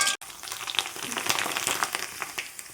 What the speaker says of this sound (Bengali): তেল গরম হয়ে গেছে। এবার চিপস দিয়ে দেব।